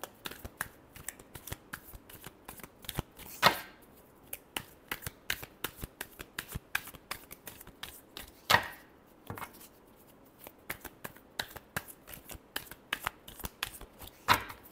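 Tarot cards are shuffled by hand in a quiet room, a steady run of soft, rapid riffling taps broken by a few louder slaps as the deck is squared, no voices alongside.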